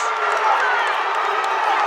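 A boxing crowd cheers wildly in a steady, dense roar that holds at an even level, with no clear single voice standing out.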